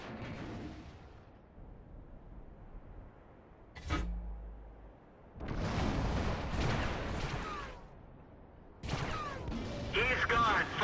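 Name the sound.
tank cannon fire in the video game World of Tanks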